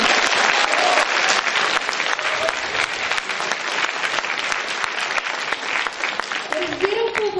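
Audience at an opening ceremony breaking into sustained applause, dense clapping from many hands with a few voices rising briefly within it near the end.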